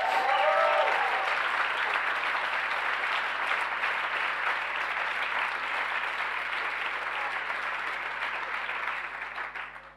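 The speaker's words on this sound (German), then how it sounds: "Applaus" Sustained, dense applause from a crowd at a strike meeting of Teigwaren Riesa pasta factory workers, steady and full for the whole stretch before thinning slightly at the very end.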